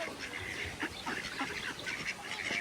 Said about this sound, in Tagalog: Ay, ang daming duck dito